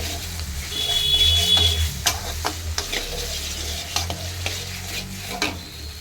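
Chicken mince stir-fried in a pan for restaurant-style chicken chow, a steady sizzle with repeated spatula scrapes and clinks against the pan, close up and fairly loud, with no talk.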